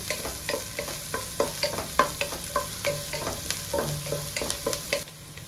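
Onions frying toward brown in a pan for crab ghee roast, a continuous sizzle broken by a steady run of quick scraping stirs, close up with no voices.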